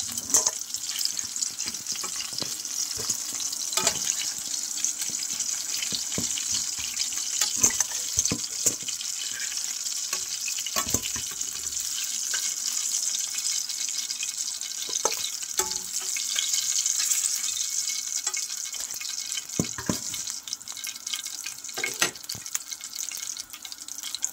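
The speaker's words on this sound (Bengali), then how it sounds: "মাছগুলো সব ভাজা হয়ে গেছে।" Pomfret fish frying in oil, a continuous loud sizzle with frequent crackles and pops, close and steady throughout, with no talking.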